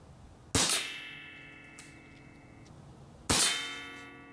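A Barra Schofield No.3 CO2 air pistol, a U.S. Army replica revolver, fires Daisy pellets. Two sharp metallic cracks land about three seconds apart, each with a ringing tail, amid quiet surroundings.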